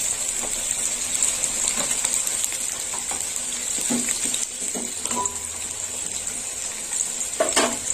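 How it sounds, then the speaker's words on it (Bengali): Pumpkin and potato pieces fry in hot mustard oil for a chicken curry, giving a steady, close sizzle with a few sharper crackles and stirring scrapes over eight seconds, with no voices. "কুমড়োটাও আলুর সাথে ভাজা হয়ে যাবে।"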